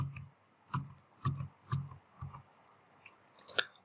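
A computer mouse clicks while working in Revit, with about five crisp, evenly spaced clicks followed by a few lighter taps, close and isolated in a quiet room.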